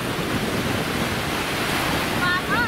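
Sea waves wash in a continuous loud roar of surf, close and steady, with wind buffeting the microphone and a brief high whistle near the end.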